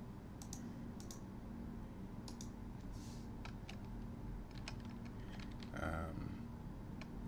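Someone typing a git clone command on a computer keyboard while setting up a Raspberry Pi: faint, scattered key clicks in short clusters over a steady background hum, quiet and close.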